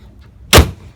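A single solid thump as the hood of a 2011 Mercedes-Benz E350 wagon shuts, close and loud, after a short quiet moment.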